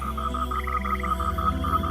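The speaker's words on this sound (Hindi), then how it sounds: "और नदी से मेंढक बाहर आए।" Several frogs croak in a pulsing, repetitive chorus, steady and close, with overlapping calls and no voices.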